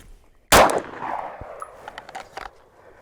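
A single loud Glock pistol shot fired at a shooting range after a draw from the holster, a sharp close crack with a ringing decay, followed by faint clinks and shuffling.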